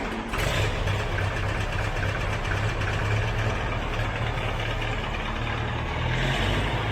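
A farm tractor's engine runs at a steady, loud idle, its deep rumble holding constant throughout with no voices over it.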